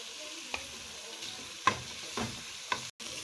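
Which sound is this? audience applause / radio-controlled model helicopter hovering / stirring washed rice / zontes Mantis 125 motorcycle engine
stirring washed rice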